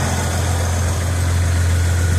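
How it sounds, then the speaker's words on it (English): A Jeep YJ engine idles steadily with a deep, constant low rumble and even vibration throughout, close by, with no voices. "Engine's running."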